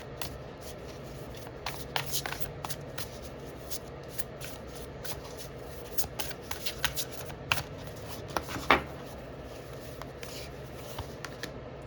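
A deck of Oracle of the Energies cards being shuffled by hand, a steady run of soft papery riffles and flicks with a few sharper snaps, fairly close and alone.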